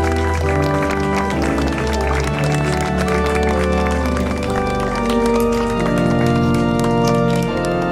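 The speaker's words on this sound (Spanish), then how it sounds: "Fuerte palmas para ellos, los recién casados." Loud, continuous applause from a crowd of wedding guests clapping for the newlyweds, with cheering voices mixed in throughout and music or other sounds layered underneath.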